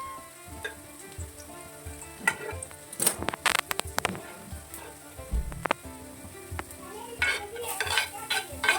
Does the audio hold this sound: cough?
no